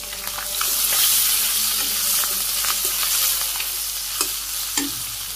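Fish frying in hot oil in a Bangladeshi home kitchen, a steady close sizzle broken by scattered scrapes and clicks of a utensil stirring and turning the pieces, with no talking.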